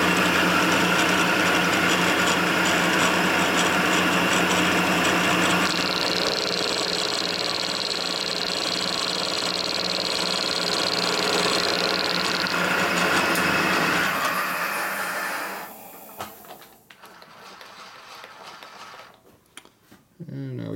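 A Harley FXR frame part being cut with a power tool for a Twin Cam conversion, a loud steady mechanical whine and grinding held for about fifteen seconds before spinning down, followed by quieter handling noises.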